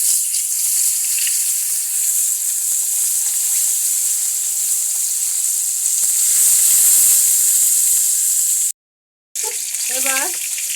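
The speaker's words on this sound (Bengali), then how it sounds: "মাছটা আমি ভাজতে দিচ্ছি।" Tilapia fish frying in hot oil in a wok, a loud, close, steady bright hiss throughout, briefly cut off near the end before resuming, no talk.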